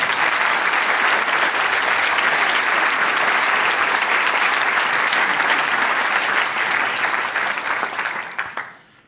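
A large audience at an awards tribute to LVMH chief executive Bernard Arnault claps loudly and steadily, close and sustained for several seconds before the applause tapers off at the end.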